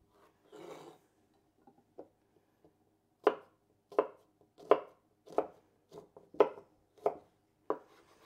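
Garlic is chopped with a knife on a board, with a few light taps and then a run of about eight sharp, evenly spaced, close chops in a quiet room.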